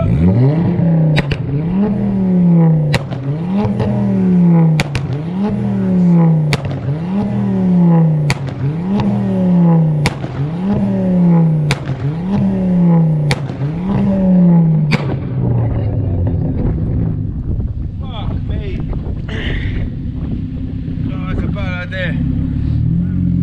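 A car at a meet is revved hard for a sound level test, giving about eight loud, rhythmic revs in quick succession before it settles into a rough idle, close up, with people talking nearby.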